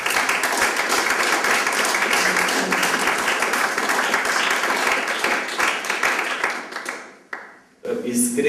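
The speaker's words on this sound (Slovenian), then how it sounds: "Zato mu najbolj zaploskamo za to." An audience applauds at the opening of an icon exhibition, honouring a priest marking his 60th birthday and 35 years of priesthood. Dense, steady clapping fills the room for about seven seconds, then fades out, and a voice begins speaking.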